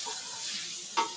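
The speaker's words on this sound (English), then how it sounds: "you can still hear those onions sizzling away" Onions sizzling in a very hot pan on a Hestan Pro gas range, a steady broadband frying hiss with a short louder scrape or stir near the end.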